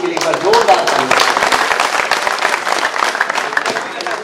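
An audience at a Kavi Sammelan comedy poetry event bursts into loud, dense applause for the police, clapping steadily throughout with a voice briefly audible at the start.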